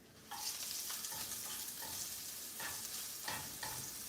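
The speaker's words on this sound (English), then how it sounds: "I'm stirring the mushrooms" Mushrooms are stirred in a frying pan, a soft sizzle under repeated scraping strokes of a utensil in an irregular rhythm, close and fairly quiet.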